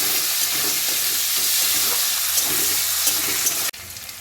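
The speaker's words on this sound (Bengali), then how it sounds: "ফোড়নটা আমার সুন্দর করে একটু ভাজা ভাজা হয়ে যায়" Hot oil sizzling around whole spices, bay leaf and green chillies in a Bengali tempering, a close, even crackle with faint stirring that stops abruptly just before the end.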